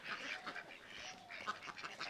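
Ducks at a small village pond quack softly, a few brief calls heard faintly from a short distance against quiet background noise.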